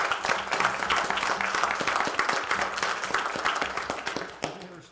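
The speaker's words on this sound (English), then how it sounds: "aren Robles, our Director of Transportation, so I'd like to give them a round of applause." Attendees at a board meeting applauding for staff, with a crisp, close round of clapping from a modest group, individual hand claps distinct and steady before tapering off at the end.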